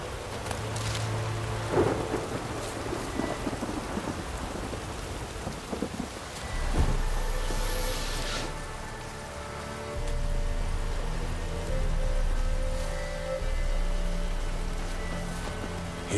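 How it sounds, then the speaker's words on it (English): A thunderstorm in The Witcher 3 video game brings steady heavy rain on the ground, with sharp cracks and long rolling rumbles of thunder, no voices. "A storm, damn it."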